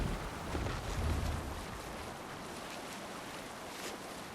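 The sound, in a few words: sailing ship on waves in the video game Assassin's Creed Valhalla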